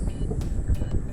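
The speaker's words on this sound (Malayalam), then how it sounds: "താഴേക്ക് നോക്കിയ ട്രെയിൻ കടന്നു പോകുന്ന ഒരു മനോഹരമായിട്ടുള്ളൊരു കാഴ്ചയാണ് നമുക്ക് കാണാനായിട്ട് സാധിക്കുന്നത്" Train passing along the tracks below a lighthouse near Alappuzha beach, a distant low rumble with wind buffeting the microphone, steady and faint throughout.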